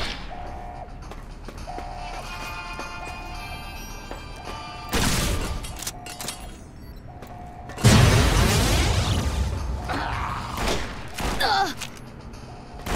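Plasma caster weapon firing in Fallout: New Vegas, with a burst of loud energy blasts and booms over steady game ambience, followed by a second heavier blast with a lingering crackle.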